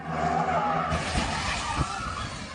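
A pickup truck on a downhill street in Marawi City, Lanao del Sur, skids out of control and slams into a parked SUV and motorcycles: an engine drone breaks into a loud, harsh burst of skidding and crashing noise about a second in, then rough clatter fades out.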